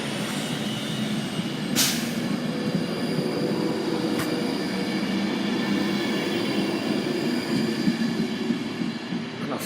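Class 390 electric train 39039, Virgin Quest, pulls out of Wigan North Western toward London Euston with a steady rolling rumble and clattering wheels, plus a couple of sharp high clicks or squeals over the constant drone.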